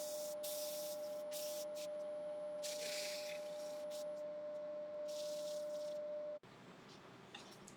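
A turned wooden kitchen utensil holder is sanded on a lathe: a steady whooshing hiss over a constant motor hum, both cutting off abruptly near the end and leaving quieter background noise.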